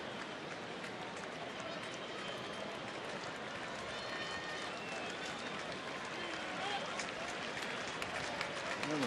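Baseball stadium crowd at a Texas night game applauding a pitcher, a broad wash of clapping and murmur that swells slightly toward the end, with a commentator's voice over it.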